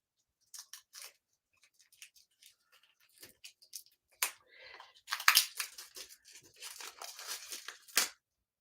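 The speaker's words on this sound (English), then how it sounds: "I'm just going to unwrap one so you can see it." A small individually wrapped craft item being unwrapped by hand, with close crinkly tearing and rustling of the wrapper in scattered bursts that grow busier and louder toward the end.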